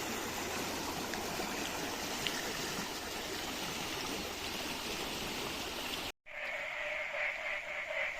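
A rain-swollen river near Mandangad rushes past a bridge in a continuous, full roar of churning water, with a very brief dropout near the end before the flow resumes at the same strength.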